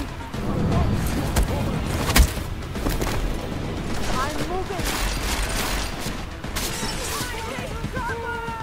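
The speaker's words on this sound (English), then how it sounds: "I wasn't expecting the entire building to start shooting at me" Heavy gunfire from many enemies in Deus Ex: Mankind Divided, dense overlapping shots and impacts crackling continuously with a sharp louder burst, a voice reacting over the barrage.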